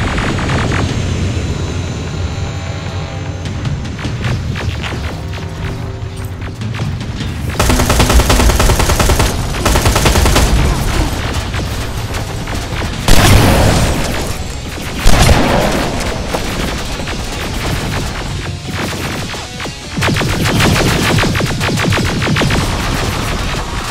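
Sustained gunfire in Terminator: Resistance, loud machine-gun bursts and booming shots in a chaotic battle, continuous and close with heavy thuds punctuating the barrage.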